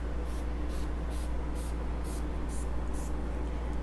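Easy Peasy Spray Wax is misted onto painted upholstery in about eight short, evenly spaced hissing bursts over a steady low background hum.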